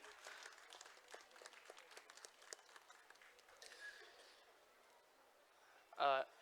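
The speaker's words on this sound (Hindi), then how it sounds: "तालियां बजती रहनी चाहिए दोस्तों" Audience applause at a kavi sammelan and mushaira poetry event: scattered, fairly distant clapping that thins out and fades over several seconds, with a short sharp tone just before the end.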